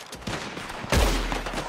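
Red Dead Redemption 2 gunshots: a few quick, muffled pops, then one heavier, booming shot near the end, with no talk over them.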